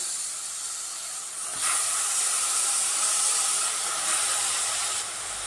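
Vegetables go into a hot pan of spiced masale bhat, giving a loud steady steaming hiss that surges up partway through and holds there, with no talk.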